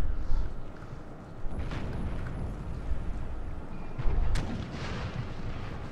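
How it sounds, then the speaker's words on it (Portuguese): Volleys of musket fire from Napoleonic infantry fighting Spanish troops in a battle in the Napoleonic Total War III video game, with dense overlapping gunfire, louder bursts around two and four seconds, and a steady rumble of battle underneath. "Eu vou ficar parado aqui atirando enquanto isso."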